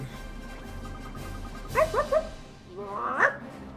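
A dog in the video game Ni No Kuni barks and yips in short bursts, a quick cluster of three yelps followed by a longer whining bark, over a quiet game background.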